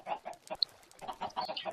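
Minecraft chickens cluck in short, repeated bursts with a brief higher chirp, several clucks close together at a modest level with no talk over them.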